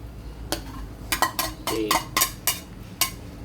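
Stir-fried filling tipped into a hot pan for a Thai stuffed omelette, giving a run of sharp clanks and scrapes of a utensil against the pan, several distinct knocks at close range with a soft sizzle underneath.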